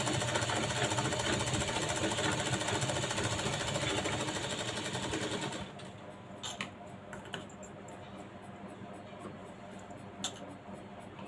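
A sewing machine runs steadily, stitching the lining of a blouse, with a dense, fast mechanical whir for about five and a half seconds, then it stops, leaving faint clicks and small handling sounds.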